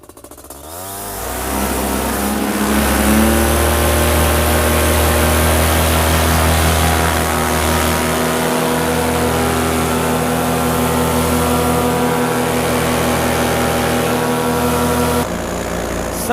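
Fly Products Xenit Cosmos 300 trike's engine catches and settles into a loud, steady propeller-driven drone, close and continuous for about fifteen seconds before a brief change near the end.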